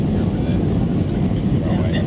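Airplane cabin engine roar during a turning approach to land at La Palma airport in the Canary Islands, a loud steady broadband drone with a person talking over it.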